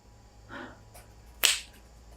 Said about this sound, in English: I'm going to clap my hands because then I see the audio waveform